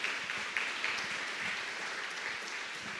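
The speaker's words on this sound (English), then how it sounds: "Let's give Lauren a round of applause for her wonderful design." An audience at an awards evening claps steadily throughout, a dense, even wash of applause with no one speaking over it.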